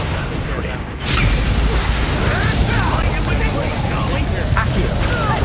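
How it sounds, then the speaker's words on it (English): Expelliarmus spell effect in a Harry Potter video game: a dense, loud whoosh of magical energy with rumbling low end, starting with a surge around the first second and sustaining with whistling, swirling tones throughout. "Expelliarmus."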